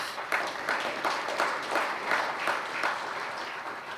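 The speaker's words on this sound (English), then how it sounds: "You're going to have to let me know when you're going to applaud there, Mr. Mayor." A small audience at a Riverside civic morning event applauds for the mayor, a steady patter of clapping hands with slight pulsing, moderately close and without talk.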